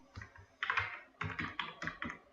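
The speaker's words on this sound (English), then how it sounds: "Now type here maximum," Typing on a computer keyboard while building an inventory management sheet in Excel, heard as quick close bursts of key clicks in several short runs, quiet and with no talking.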